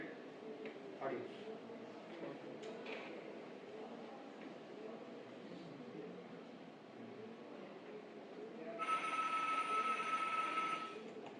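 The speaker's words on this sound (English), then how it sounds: "phone sound is separated" Telephone ringing, pulled out from a noisy mixed recording: faint rumbling background noise gives way near the end to a steady, bright electronic ring tone lasting a couple of seconds, with some leftover noise underneath.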